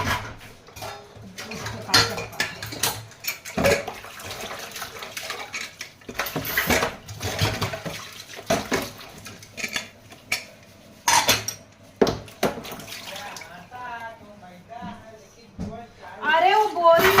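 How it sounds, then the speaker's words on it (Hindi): Dishes and utensils are washed by hand: metal pots and cutlery clatter and clink in irregular bursts, close and fairly loud, with running water and people talking throughout. "चलें बर्तन धुल लें"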